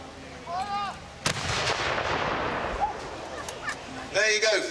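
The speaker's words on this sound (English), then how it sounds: "we're going to put the first round down the range, just to give you the sense of shock and awe of the little two-pounder" A small two-pounder artillery gun fires a single round down a range at a military display, one sharp loud bang that booms over steady crowd chatter, with people talking before and after.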